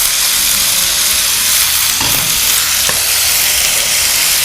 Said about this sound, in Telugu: కొంచెం వేగాలండి